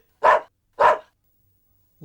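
A dog barks twice in a comic Tamil scene, two loud, evenly spaced barks about half a second apart followed by near silence.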